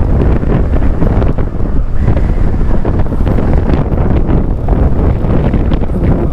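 Strong wind roars across the microphone on a mountain zigzag road between Dalaguete and Badian in Cebu, a loud, steady, unbroken buffeting with no voices.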